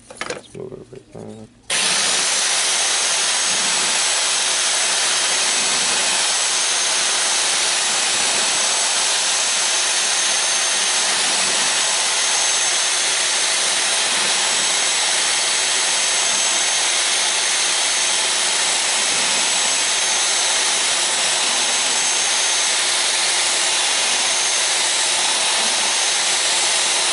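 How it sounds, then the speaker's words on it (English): A rotary tool drills slowly around a coin being made into a ring, giving a steady high-pitched whine that holds for nearly the whole stretch after a short opening burst. "you can see me drilling at it for a bit"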